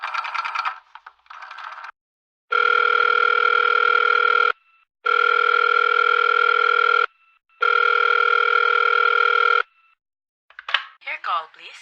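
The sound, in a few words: telephone dial tone before calling the police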